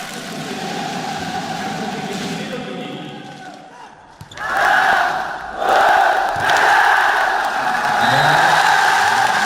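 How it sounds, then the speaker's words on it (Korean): Spectators in a sports arena break into enthusiastic applause and crowd noise as players come out. A brief lull around four seconds gives way to loud, sustained clapping and cheering, with a voice talking over it. "관람자들은 열렬한 박수로 고무와 격려의 인사를 보냈습니다"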